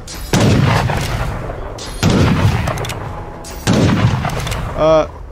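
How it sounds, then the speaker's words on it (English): Covering fire in the video game Divinity: Original Sin 2 lets out three loud, booming bursts of gunfire spaced about a second and a half apart, each one trailing off before the next, followed by a short ringing tonal chime. "Let's go ahead and try covering fire to see what it'll do."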